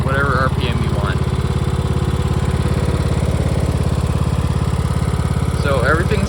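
Riding lawn mower with a Craftsman gear transmission, freshly tuned up for spring, idling steadily nearby in a continuous loud low rumble with a fast even pulse, a voice briefly speaking over it near the start and end.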